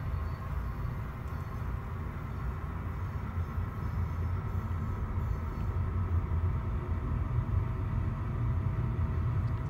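A real BNSF freight train rumbles outside, a steady low, muffled roar that holds evenly throughout with no voices over it.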